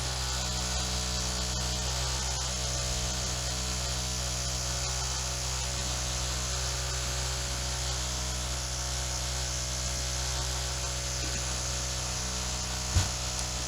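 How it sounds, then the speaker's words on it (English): A neighbor drills into a wall, producing a continuous, steady mechanical whirr heard through the building, unbroken for the whole stretch with one brief knock near the end. "that's my neighbor drilling the wall when I decided to make a video."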